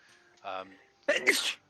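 A single sharp sneeze bursts out near the mic after a stretch of quiet voices, loud and brief against a low room hush.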